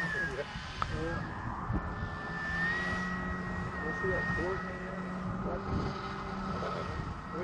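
A Flex Innovations RV8 60e electric RC airplane hovering in gusty wind, its motor a steady, fairly distant whine that shifts gently in pitch over wind rumble on the microphone.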